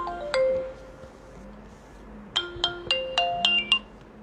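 An incoming-call ringtone on a phone during a call-in broadcast plays a short melodic phrase, then a quiet gap, then a faster run of bright chiming notes, fairly clear with no talking.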